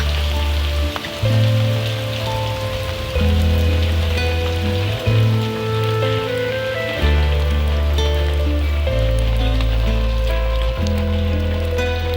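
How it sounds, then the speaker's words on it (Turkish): Rain falls on surfaces as a steady, close hiss under sustained low tones that shift every few seconds. It continues for about twelve seconds with no talking. "Yağmur dindi."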